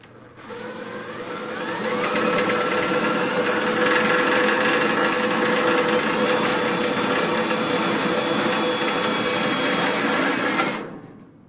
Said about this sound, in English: Got my drill on high, get in the center.